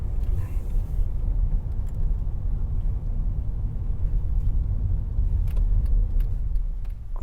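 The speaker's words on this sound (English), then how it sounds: "we're driving on the road and we're going to get a park on the right in the next few seconds." A car drives along a UK road during a mock driving test, producing a steady close engine hum and road rumble throughout with no talking.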